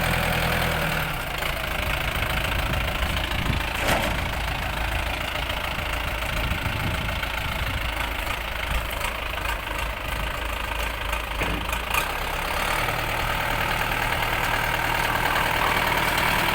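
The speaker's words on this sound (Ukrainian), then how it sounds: "Це потужний трактор" A heavy 50-horsepower Orion 504 tractor engine idles continuously nearby, a steady low rumble with a knocking chug and faint clatter, no voices.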